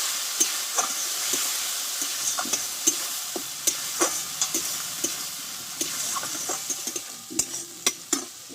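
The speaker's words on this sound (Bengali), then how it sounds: "হাফ চামচ জিরে গুঁড়ো দিয়ে ভালোভাবে একটু কষিয়ে নেবো" Chili powder and cumin powder sizzle in hot oil while a spatula scrapes and stirs them around a pan for a vegetarian banana-flower jhal. Repeated clinking strokes punctuate the steady fry.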